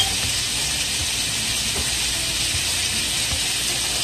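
Onions hitting a hot pan with scallops for a Jamaican curry scallop dish, giving a steady, bright sizzling hiss that stays loud and even throughout, with no talking.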